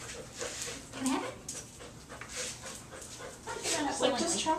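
A dog pants rapidly and steadily while playing tug with a toy duck, with a person talking over the panting throughout.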